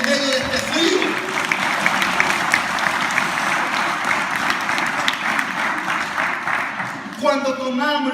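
Steady applause from a church congregation filling the space for several seconds, with a preacher speaking briefly in Spanish at the start and again at the end.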